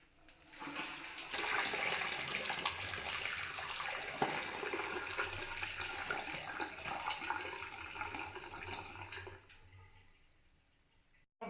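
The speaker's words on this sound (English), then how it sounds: "I do like to follow up with a kettle full of boiling water down the plug hole" Water from a kettle of boiling water poured down a sink plug hole, a steady rushing gurgle running close and loud for about eight seconds before trailing off into quiet.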